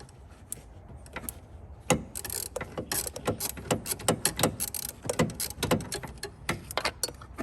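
A ratchet clicks rapidly in uneven bursts, close and fairly loud, while loosening the EGR bolts on a Ford Ranger 3.2 engine, with no talking.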